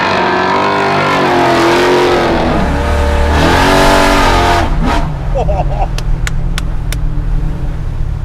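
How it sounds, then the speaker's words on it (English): An 850hp Chevelle accelerating hard while smoking its tires, the engine roaring loud and close as the revs rise, fall and climb again, with a brief chirp and squeal toward the end. "go for a ride and smoke some tires."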